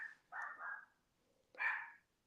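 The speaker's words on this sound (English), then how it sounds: "If you can hear barking, my dog." A pet dog barks twice at a distance, two short faint bursts with a quiet gap between them, heard alone with no talking over them.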